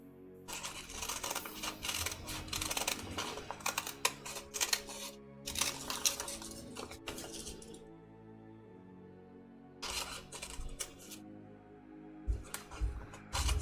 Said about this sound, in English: Now let me switch to my regular scissors, because you shall not cut paper with your fabric shears.